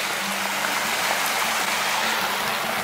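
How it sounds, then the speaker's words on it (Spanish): Floodwater runs down a channel outdoors, a steady, dense rushing and splashing that continues evenly throughout without pauses. "Ya veis cómo baja el agua."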